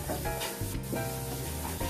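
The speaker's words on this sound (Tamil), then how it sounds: "இப்போ வந்து எடுத்துட்டு சோம்பு தூள் போட்டுருவோம். போட்டுட்டு நல்லா கலருங்க." Chicken curry masala frying in a pan as fennel powder is stirred in, a steady close sizzle with soft scraping stir strokes running throughout.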